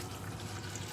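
Bottled water runs into a kitchen sink to rinse lemongrass while preparing tea, a soft, steady trickle and splash that stays faint and close, with no talking.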